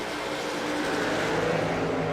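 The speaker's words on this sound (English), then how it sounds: "Can you all hear the cars okay?" Race cars running on a track during a broadcast race, heard as a steady continuous engine drone from a distance, fairly faint and unbroken, with no talk over it.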